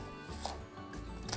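Onions being chopped with a knife on a board, a few soft, close cuts with brief low thumps over a quiet kitchen background, no speech.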